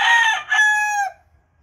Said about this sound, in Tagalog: Aming mga manok dito.